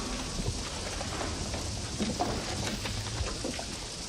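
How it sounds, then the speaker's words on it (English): Rain leaking through the ceiling of an old house during a heavy downpour, a continuous hiss of falling water with scattered drips and patters, soft and steady throughout with no speech. "The rain's come through again."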